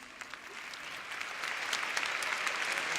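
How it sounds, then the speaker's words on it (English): Audience at a Web Summit tech conference talk applauds, a steady crowd clapping that swells slightly louder midway and continues evenly throughout, with no speech over it. "Let's clap it up for these pioneers."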